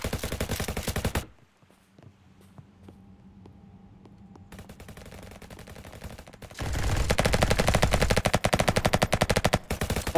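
Rapid automatic gunfire in a Roblox first-person shooter game, loud bursts at the start, a quieter stretch of scattered shots, then a long sustained burst of fast rattling fire.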